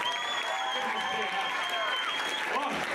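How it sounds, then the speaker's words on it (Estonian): A school playback show audience applauds the tenth-grade class performers, with sustained, even clapping filling the whole stretch and a voice speaking over it. "Aplaus 10. klassile."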